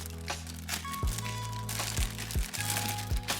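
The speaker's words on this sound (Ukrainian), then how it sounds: "Давайте позбудемося від пакету." Plastic packaging bag pulled off a cheap AliExpress bicycle pump during an unboxing, crinkling in close, fairly loud bursts with a few sharper crunches and rustles over about three seconds, no talking.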